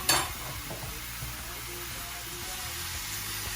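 Fenugreek leaves with pink salt being stirred in hot oil in a pan, a soft continuous sizzle with a sharper scrape at the start, steady and close throughout.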